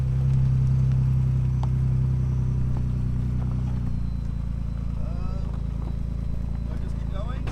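A Ford Bronco's engine crawls slowly over slippery ice, giving off a steady low rumble that holds loud and close throughout, with faint clatter riding over it.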